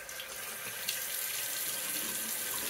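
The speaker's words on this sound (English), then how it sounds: "let's go ahead and wet the face really quick with some warm water" Warm water runs steadily from a tap while someone wets their face for a shave, a continuous close hiss and splash that stays steady, with no talking.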